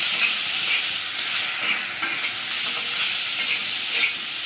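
Two medium onions, finely chopped, frying in oil in a pan while being stirred and browned, a steady loud sizzle with occasional scraping, no voices.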